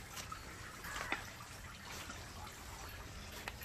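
Water trickling through a garden pond's filter pipe, a faint continuous wash with small drips and splashes, low and steady with no talk.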